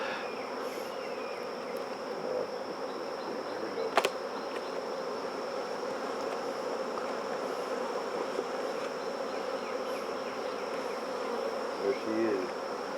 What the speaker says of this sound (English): This is a gentle yard of bees.